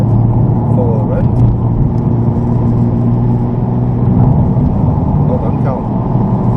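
A Nissan GT-R accelerates steadily on a race track, heard from inside the cabin as a loud, constant low engine drone and road rumble, with no breaks in the noise.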